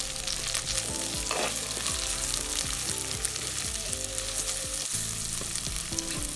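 Finely chopped onions fry in hot oil as the base of a village-style chicken curry, a loud, continuous close sizzle with recurring scrapes and clinks of a spoon stirring the pan, and no talking.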